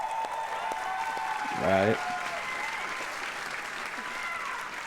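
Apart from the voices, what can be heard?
audience applause at Ubisoft E3 2019 conference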